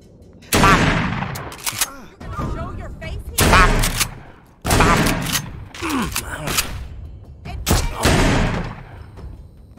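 Shotgun blasts in The Walking Dead: Saints & Sinners, four heavy booming reports spaced a couple of seconds apart with rattling handling noise between them and a voice talking over the action.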